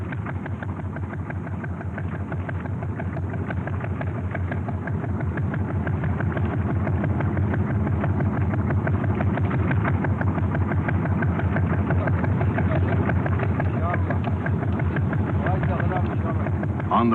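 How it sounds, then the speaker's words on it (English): Diesel engine of a motorized canoe on the Niger river drones steadily and loudly throughout, a continuous close mechanical rumble with a constant rhythmic chug. "A power-driven canoe takes us back to Mopti."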